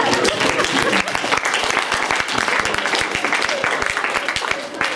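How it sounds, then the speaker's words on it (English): A student audience at a Santa Clara University student government candidates event breaks into loud, dense applause that holds steady throughout, with voices faintly mixed in. "give yourselves a round of applause for coming"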